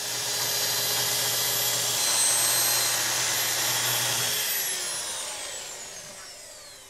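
A power saw cutting rift white oak veneer against the grain, a loud steady whining roar that holds for several seconds, then winds down as the blade spins to a stop, with no talk.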